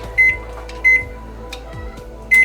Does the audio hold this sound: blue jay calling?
no